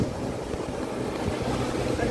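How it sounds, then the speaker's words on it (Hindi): Ocean waves at Calangute Beach in Goa wash in a steady, dense roar with some wind rumble, close and continuous. "और पानी का लहर देखिए।"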